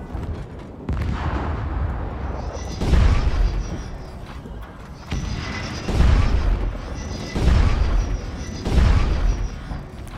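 Mech weapons firing in the MechWarrior Online game, heavy booming shots in loud bursts about every one to two seconds over a low mechanical rumble.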